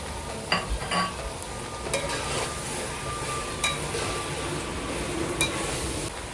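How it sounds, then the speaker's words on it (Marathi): Homemade fried rice being stir-fried with tomato ketchup, a constant sizzle under repeated clinks and scrapes of a metal spatula against the pan, with a few sharper knocks. "टोमॅटो केचप टाकून परतून घेऊया"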